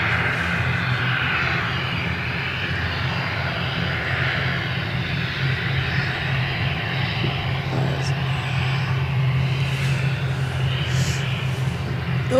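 A jet aircraft coming in to land at Edinburgh airport makes a continuous, fairly loud engine roar with a low droning hum underneath. It holds steady throughout, with no clear talk over it.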